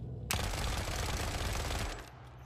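Rapid, continuous burst of 9mm gunfire in the video game The Forever Winter, loud and dense for about two seconds before cutting off abruptly, with no talking.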